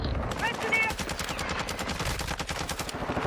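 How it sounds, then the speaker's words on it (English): Rapid automatic gunfire in the video game Warzone 2.0, dense bursts of shots rattling continuously over a busy in-game mix, with a faint voice underneath. "Shots."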